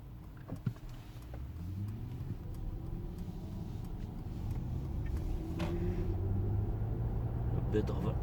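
A low synthetic hum rises and sweeps in pitch as a Mercedes EQS electric car moves off, its artificial drive sound steady and continuous with faint clicks and a voice over it.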